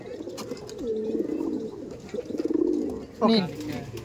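Andhra Madrasi pigeons released from a loft, cooing and calling in soft repeated bursts close by, with a brief flutter of wings near the end.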